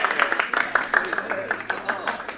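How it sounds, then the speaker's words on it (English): Gallery applause at a tennis match in a radio drama, brisk overlapping claps from a crowd, close and lively over a low background murmur. "I joined in the gallery applause"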